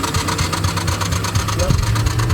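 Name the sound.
Ford Mustang engine trying to start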